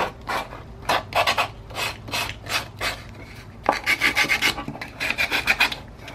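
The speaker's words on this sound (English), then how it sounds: "Does work nicely if you sand the edges down" Rasping, regular sanding strokes work over the rough edges of an unfinished wooden box, close up and loud, in steady back-and-forth bursts with no talk.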